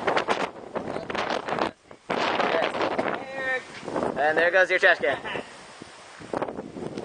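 Strong gusting wind from an Arizona haboob dust storm buffets the microphone in loud, rough bursts with brief lulls, while people talk over it throughout.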